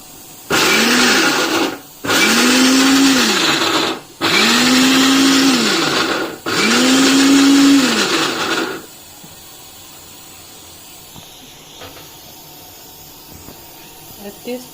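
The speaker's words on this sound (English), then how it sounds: "First we need to grind without" A kitchen blender grinds dry semolina for rava idli in four loud pulses of a few seconds each, with the motor pitch rising and falling, followed by quiet handling.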